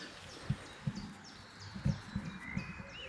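Faint birdsong drifts in from a distance, several chirps and whistled phrases from a Eurasian blackbird, European robin and Eurasian wren, with soft low thuds and rustling nearby.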